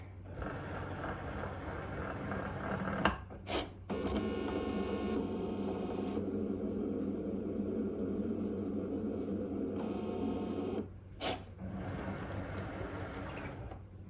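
A Cricut Maker cutting machine runs with a low motor hum, its carriage whirring in long even stretches between brief pauses and a couple of soft clicks, all alone in a quiet room.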